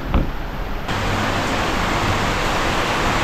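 Steady rain falls in a heavy, even hiss that swells louder after the first second and continues unbroken, close by and with no voices.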